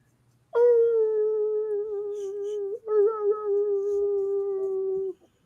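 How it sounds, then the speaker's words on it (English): A coyote howls in one long, plaintive, wavering call that breaks briefly and carries on for about five seconds, loud and clear over a quiet background, with no talk. "The stillness is broken totally by the distant plaintive howling of a coyote."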